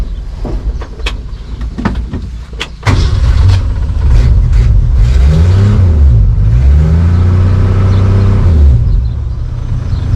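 A 1963 Ford Falcon Futura engine catches and revs loudly after some brief clicks and clunks, its droning tone rising and falling through several throttle blips before easing back to a steady idle.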